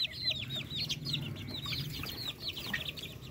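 A small flock of Darag native chickens, one rooster with six hens kept as breeders, cluck in a quick, chattering series of short calls, fairly faint and moderately close.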